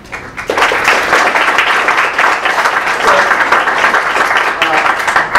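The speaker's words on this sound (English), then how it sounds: "Please give another round of applause for our host." An audience at an engineering alumni evening in a museum gives the host a round of applause, loud, continuous clapping that starts abruptly and holds steady throughout, with a few voices mixed in.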